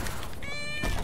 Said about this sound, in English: Can't have a stream without the cat